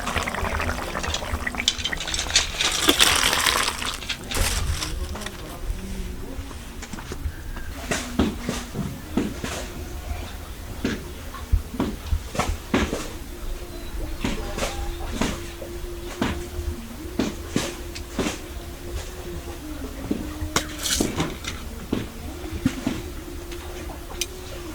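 A pot of fish curry made with rohu, potato and eggplant is lifted off a kitchen stove, heard as scattered metallic clanks and knocks with faint bubbling and sizzling beneath, close by, with no talking.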